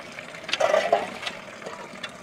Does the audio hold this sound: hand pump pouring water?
yes